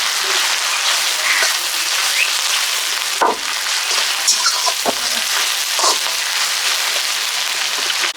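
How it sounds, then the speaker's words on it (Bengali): Garlic and ginger paste frying with onions in a pan, giving a steady, even sizzle like light rain that runs unbroken throughout, with a few soft clinks and no voices. "এখন দিয়ে দেবো রসুন আর আদা বাটা। আবারও কিছুক্ষণ এভাবে সুন্দর করে কষিয়ে নেব।"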